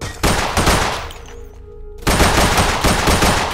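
Video game gunfire in Roblox's The Border, loud rapid automatic bursts of shots near and harsh, stopping for about a second before resuming in a steady stream, with no talking.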